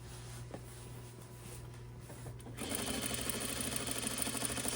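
A sewing machine hems a T-shirt, its motor starting after a quiet moment and running in a steady, close, rapid rhythmic whir to the end.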